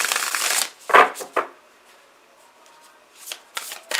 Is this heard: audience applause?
no